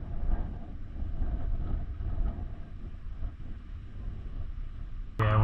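Wind buffets the microphone at a ditch fishing spot on Harsens Island, a gusty low rumble that rises and falls, ending in a sharp louder burst of noise.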